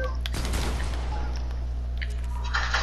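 A sniper rifle fires in Fortnite, with a sharp loud crack near the start and a rumbling decay after it, while game tones and a faint voice carry on behind.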